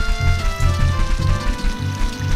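Flowing water in The Legend of Zelda: Ocarina of Time runs as a steady, moderately loud wash beneath tonal in-game music, with a low pulsing rhythm throughout and no talking.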